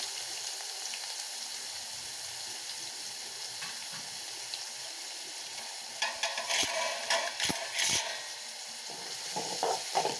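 Steady crackling sizzle of chopped onion sautéing in oil, with occasional stirring scrapes and clinks of a utensil in the pan.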